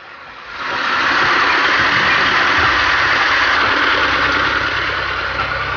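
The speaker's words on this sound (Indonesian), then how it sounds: "kita lakukan dulu penyedotan air dengan mesin sehingga memudahkan pengambilan udang" An engine-driven water pump starts up and runs steadily, drawing water out of a shrimp pond before harvest; a close, loud, rough mechanical drone with a knocking rumble holds throughout without talk.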